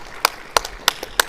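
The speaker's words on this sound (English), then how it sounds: "let's have one last round of applause for our founders and our incredible judges" Audience applause for startup founders and judges at a tech conference, heard as a few sparse, distinct claps spaced at a steady rhythm, close and fairly faint.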